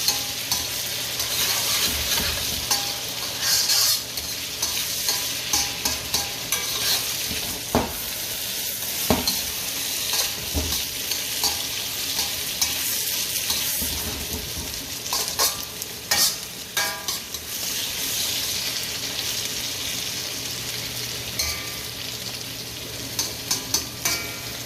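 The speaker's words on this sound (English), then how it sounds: "so as you can see, it's frying nicely." Eggplant frying in a pan for Japanese simmered eggplant, a steady close sizzle with occasional stirring scrapes running throughout, no talking.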